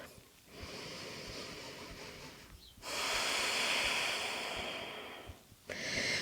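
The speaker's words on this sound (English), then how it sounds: "Take a deep breath." Deep breaths drawn in and let out slowly during a vinyasa yoga flow, lying on the back with knees hugged to the chest. A long inhale is followed by a fuller exhale, with a final breath starting near the end.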